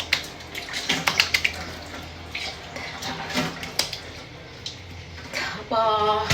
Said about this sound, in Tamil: அப்புறம் எடுத்து வச்ச ஜில் தண்ணி வச்சு மூஞ்சி கழுவலாம்.